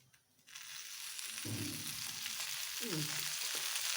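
Okra sautés in oil in a pan, a close, continuous hissing sizzle that starts after a short quiet moment, with a few low stirring scrapes mixed in.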